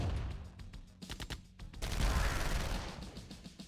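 Rapid bursts of gunfire from an Apache helicopter attacking in C&C: Tiberian Dawn, sharp repeated shots in clusters followed by a louder rumbling barrage, moderately distant and with no voices.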